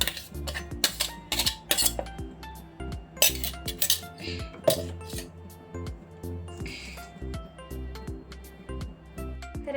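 Finely minced chicken for seekh kebabs is scraped out of a mixer jar into a metal bowl. Close, repeated metallic clinks, taps and scrapes ring out in an uneven rhythm, with no talking.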